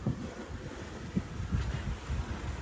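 Sailboat running at about 6.5 knots with both headsail and mainsail reefed, wind rushing and buffeting the microphone over steady low water wash and hull rumble, with brief louder gusts and no voices.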